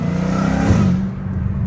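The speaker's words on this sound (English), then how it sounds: "the whine of the exhaust is just so therapeutic" Dodge Challenger Hellcat Redeye, a loud close supercharger whine and rumbling exhaust as the engine revs, the pitch rising then easing back off within a couple of seconds.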